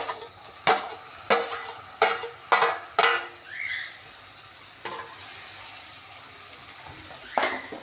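Onion and tomato sauté in a pan, with a soft sizzle under several sharp clanks of a spoon stirring against the metal pan, spaced irregularly.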